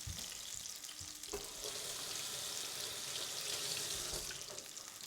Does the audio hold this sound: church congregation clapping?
no